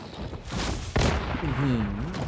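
A bomb explodes in the video game Once Human with a sharp, loud blast that is followed by a rumbling tail, and a voice talks over the game sounds.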